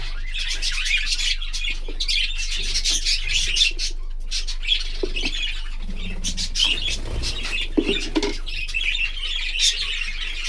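Many small caged birds, breeding pairs, chirp and tweet continuously close by, with occasional squawks and fluttering over a faint low hum.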